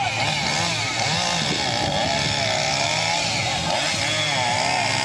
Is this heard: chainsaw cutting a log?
yes